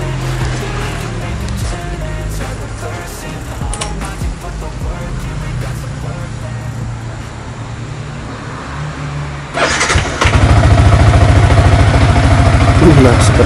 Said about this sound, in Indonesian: Nah, sekarang kita cek mesin motor ini.